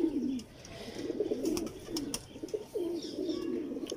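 A young Teddy-breed pigeon coos in repeated low, throaty phrases, close and clear, with a few soft pauses between calls.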